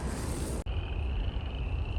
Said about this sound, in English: There's some upland chorus frogs calling.